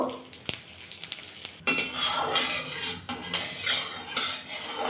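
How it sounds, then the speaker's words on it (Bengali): Dry red chillies and whole cumin hit hot mustard oil in a kadai and crackle into a bright, close sizzle, with a few sharp utensil clinks and stirring scrapes at the start. "কড়াইতে সর্ষের তেল দিয়ে দেবো তেলটা গরম হয়ে গেছে দুটো শুকনো লঙ্কা ফোড়নে দেবো গোটা জিরে ফোড়নে দেবো"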